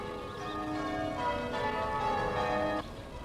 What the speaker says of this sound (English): The bells of the Protestant cathedral can be heard faintly at the Catholic cathedral.